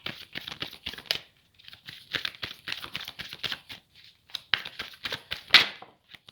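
Tarot cards are shuffled and drawn from a deck in a series of close, crisp papery flicks, rustles and slaps, arriving in quick irregular bursts with brief pauses between them and no voice over them.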